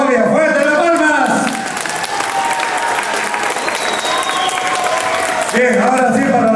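Applause and crowd noise after civil wedding vows, steady clapping from guests with voices heard at the start and end.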